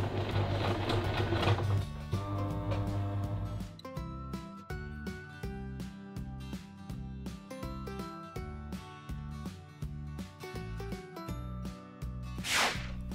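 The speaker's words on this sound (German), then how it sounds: "also sehr langsam mit der Nähmaschine drüber gehen" A sewing machine stitches slowly around a fabric phone pouch, its motor whirring in a steady run of regular, evenly paced stitch pulses close up, with no talking.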